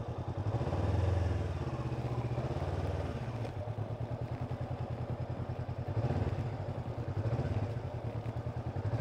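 A motorcycle moves off at low speed during a riding lesson, its engine thumping in an even rapid beat at low revs, fairly close and steady, swelling slightly as it pulls away.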